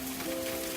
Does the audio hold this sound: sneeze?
no